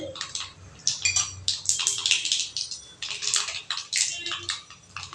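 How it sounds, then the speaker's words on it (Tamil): Mustard seeds crackling and popping in hot oil in a pan, a quick irregular burst of sharp sizzling pops that come close and lively in clusters, with a faint voice briefly underneath. "கடுகு நல்லா பொரிஞ்சிருச்சு."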